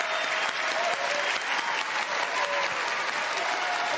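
Standing ovation at the SAG Awards as the Korean cast of Parasite is introduced, a loud, dense, sustained roar of clapping from a large crowd, with no voices over it.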